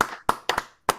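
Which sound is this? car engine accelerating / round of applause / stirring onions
round of applause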